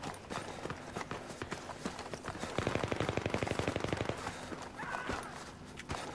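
Gunfire in the video game Arma: rapid bursts of automatic shots rattle over a busy, noisy game background, peaking in a dense run of quick reports midway before easing off.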